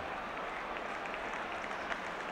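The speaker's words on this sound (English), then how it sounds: "but the crowd applaud nonetheless" Football crowd at a West Bromwich Albion versus Manchester United match, clapping in a steady, dense wash of applause that fills the stadium at an even level, heard from a distance without a clear voice.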